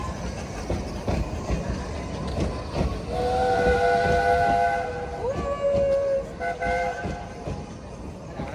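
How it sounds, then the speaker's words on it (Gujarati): A small zoo train at a zoo park passes by, its rumbling wheels joined midway by a drawn-out whistle with a couple of tones, close and fairly loud, under a general crowd murmur. "આ ટ્રેન આવીશ"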